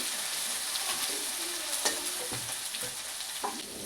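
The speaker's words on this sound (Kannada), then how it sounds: "ಎಣ್ಣೆ ಕಾದ ನಂತರ ಸಾಸಿವೆ ಜೀರಿಗೆ ಶುಂಠಿ ಬೆಳ್ಳುಳ್ಳಿ ಪೇಸ್ಟನ್ನ ಹಾಕೋತಾ ಇದ್ದೀನಿ" Mustard seeds, cumin and ginger-garlic paste fry in hot oil while being stirred, giving a steady close sizzle with scraping stir sounds and no talking.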